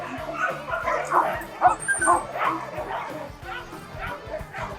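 A sled dog is being put into its harness during an outdoor dog-sledding outing. It barks, yips and whimpers repeatedly and close by, over a low rhythmic background.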